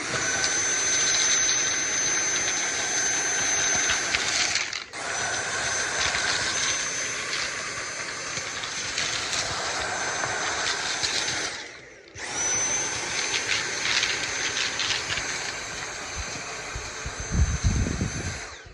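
A vacuum cleaner runs on its highest power setting while cleaning a dusty ceiling fan, a loud steady whine that cuts out briefly twice and then resumes at full strength.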